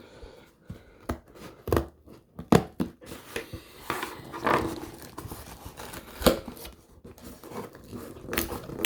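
Close, sharp snips and crinkles of scissors cutting through packaging, irregular bursts with short pauses between them.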